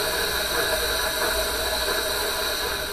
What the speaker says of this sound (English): the sound the machine made when it squashed the rubber nuggets into half balls